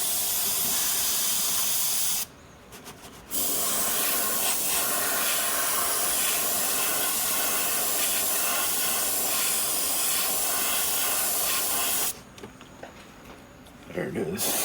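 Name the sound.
airbrush spraying pearl white paint on glide bait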